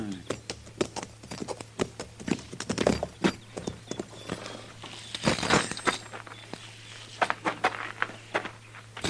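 Horses in a corral clip-clop with steady irregular hoof thuds on hard ground, close and distinct, with a faint low hum underneath and people talking in an old radio western drama.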